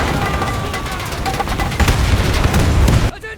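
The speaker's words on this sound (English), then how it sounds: "Oh, it's almost just died from that explosion." Explosion hitting a tank in the World War II strategy game Men of War II: loud, dense blasts and gunfire rumble continuously for about three seconds, then cut off abruptly.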